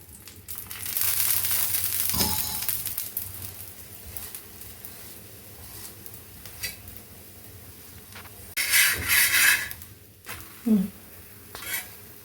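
A sweet potato chapati fries in oil on a pan, giving a low steady sizzle broken by several scraping, pressing and utensil clinks, a few of them louder bursts; no talk.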